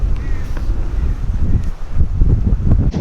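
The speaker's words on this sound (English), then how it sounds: "there's this big chasm right here, and it is so windy" Strong gusting wind at a rocky ocean chasm near Thor's Well on the Oregon coast, roaring and buffeting the microphone in uneven surges, with a bird call faintly audible.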